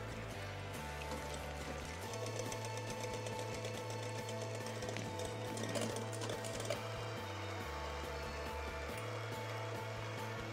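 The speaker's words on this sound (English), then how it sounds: "in order to whip the egg whites into stiff peaks" Electric beaters whip egg whites with sugar for tiramisu, a steady close motor whir with a faint rattle whose pitch shifts slightly now and then, running throughout without talk.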